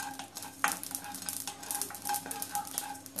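Fenugreek seeds and green chillies heating in oil for lemon pickle, a soft close sizzle broken by scraping stirs and light metallic clinks of a spoon against the pan.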